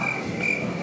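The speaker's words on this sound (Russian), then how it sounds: "Опять сверчки." Crickets chirp in a steady, continuous high trill throughout, a moderately loud background chorus with no talking over it.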